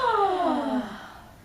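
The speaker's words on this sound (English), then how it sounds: "So we're going to really yawn." A single drawn-out yawn, a voiced sigh sliding downward in pitch and fading away over about a second.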